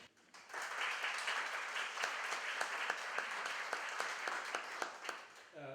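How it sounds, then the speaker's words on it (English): A meeting audience applauds its panelists with steady, moderately loud clapping that holds for several seconds, distinct claps standing out in the roomy wash before it stops abruptly and a voice begins at the end. "a round of applause for our panelists"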